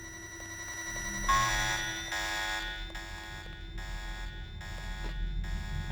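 Alarm in the video game Deus Ex: a harsh buzzing electronic tone sounding in repeated pulses of about half a second, loud and steady over low background rumble.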